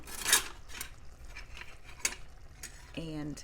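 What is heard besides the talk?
ladle scooping pinto beans from a pot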